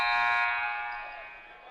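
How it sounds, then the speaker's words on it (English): A loud basketball arena buzzer at a college game sounds a sustained, harmonically rich electric tone that begins abruptly and slowly fades over under two seconds. "I love the sound of the buzzer."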